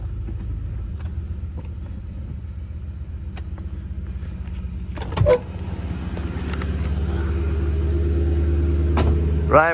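Infiniti Q45 Y33 engine idling roughly while cold, a low steady rumble with slight unevenness and a couple of brief mechanical clunks, close and continuous with no talk.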